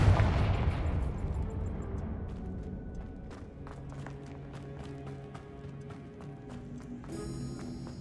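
Confringo blasting-curse explosions in Hogwarts Legacy, a loud burst up front that decays into a rumbling tail, followed by scattered sharp clicks and impacts at moderate level with a bright shimmering effect near the end.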